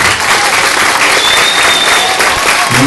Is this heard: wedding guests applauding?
yes